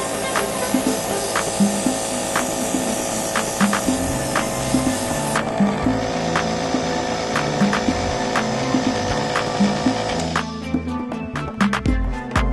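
Airbrush spraying coral blush onto the cheeks during a makeup application: a steady, close hiss with a faint mechanical pulsing underneath, continuous throughout and without speech.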